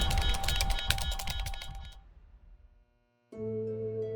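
Typing on the wrecked remains of a computer keyboard in ruined electronics, a dense run of close clicks for about two seconds that thins out, falls silent, then gives way to a steady tonal hum.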